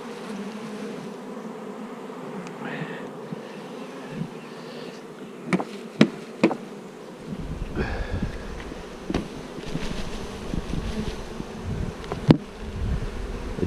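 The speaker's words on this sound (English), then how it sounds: "I want you to feed these bees," Honey bees in a hive, a steady close buzzing drone throughout, punctuated by occasional clicks and knocks from handling, with no voices.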